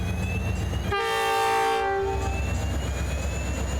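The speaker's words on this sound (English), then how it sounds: "the grain train departs Junee with locomotives CLF-1, 44-223, C501, and CLF-2" A grain train departs Junee behind locomotives CLF-1, 44-223, C501 and CLF-2, sounding one loud, sustained chord on its horn for about a second over a continuous low rumble of engines and rolling wagons.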